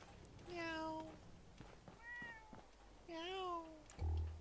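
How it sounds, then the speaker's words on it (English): A cat in the video game Fallout 4 meows three times, drawn-out and tonal with short pauses between calls, heard close and clear over a quiet background. "You're a cat."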